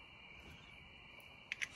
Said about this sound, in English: It's funny how different times of the day there's different bugs.